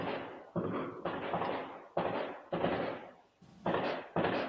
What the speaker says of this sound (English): It's fireworks outside our house for some reason.